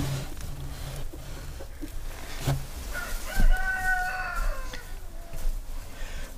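Backyard laying hens cluck close by, with a rising, drawn-out squawk midway and scattered soft clucks over faint background noise.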